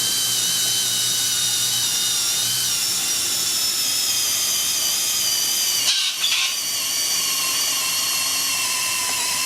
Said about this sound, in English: The hammer drill, or combi drill.